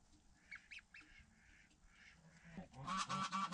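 A baby goose with its foster mother hen gives a few faint peeping calls, then louder, harsher honking bursts near the end, close by and alone without talk.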